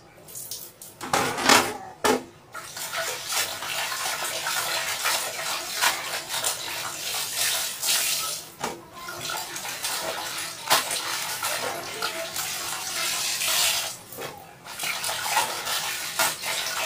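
Water splashing and sloshing steadily as laundry is hand-washed and scrubbed, with clattering and dripping close by, continuous and fairly loud with a few brief pauses.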